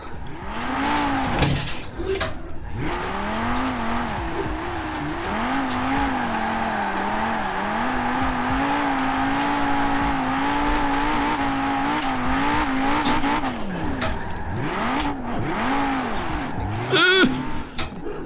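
Audi RS2 with a 600-horsepower engine drifting in the racing game Forza Horizon 4, its engine droning and wavering steadily for about eighteen seconds, with brief tire squeals and talk in the background.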